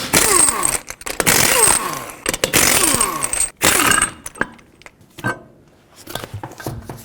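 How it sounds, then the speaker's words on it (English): A socket wrench removes the lug nuts from a wheel of a 2002-06 Toyota Camry. Loud, close metallic ratcheting and clanking comes in repeated bursts, then fades to scattered lighter clinks and knocks, with no talking. "With a 21mm socket, remove all 5 of your lug nuts and then take off the wheel."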